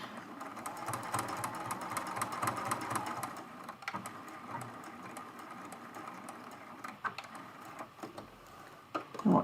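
A sewing machine stitches white thread into white fabric, its close rapid mechanical whirr running steadily, then slowing into a few uneven bursts and clicks.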